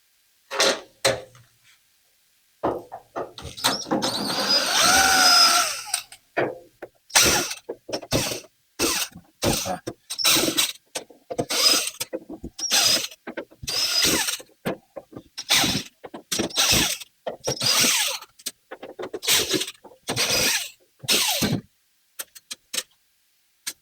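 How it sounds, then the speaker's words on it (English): Screws come out of the tailgate retaining strip on a 1966–1977 Ford Bronco, heard as close, rapid ratcheting clicks in short bursts separated by brief silences, with a longer, denser stretch near the start. "what we're going to do is start by removing the screws that hold"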